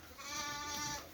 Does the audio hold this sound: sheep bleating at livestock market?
yes